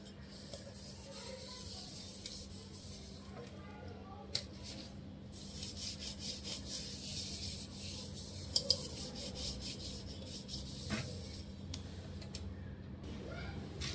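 Steady, quiet scrubbing rubs across a tarnished brass vessel, a soft rasping texture that continues through the clip with a few faint clicks and a low hum behind it.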